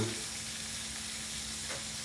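Pork chop nuggets fry in hot grease, giving a steady, even sizzle with a faint low hum beneath, continuous and close for the whole stretch.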